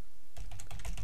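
Rapid keystrokes on a computer keyboard while entering a yum install command on CentOS, a quiet pause then steady close-up clacking of several keys.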